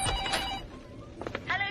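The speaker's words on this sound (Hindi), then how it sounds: "फोन बज रहा है। तू उठा ले।" A telephone rings in short trilling bursts, fairly faint and nearby, with brief gaps between rings.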